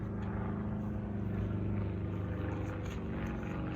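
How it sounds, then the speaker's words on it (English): A propeller airplane circles overhead outdoors, its steady droning engine hum continuous and moderately loud throughout, with no talking. "Boy, that plane is kind of pesky. It's just circling overhead."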